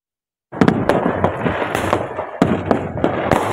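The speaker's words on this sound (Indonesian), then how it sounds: "ratusan kembang api menghiasi langit kota Fak-Fak" Hundreds of New Year fireworks explode over the city of Fakfak, West Papua, as a dense run of loud, crackling bursts with sharp repeated booms, heard alone with no talking.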